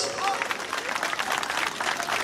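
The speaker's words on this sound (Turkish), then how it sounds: "Türkiye Emekliler Derneği'ne kocaman bir alkış." Applause at a concert for a retirees' association folk dance group, with a lively crowd clapping in uneven bursts under a speaking voice throughout.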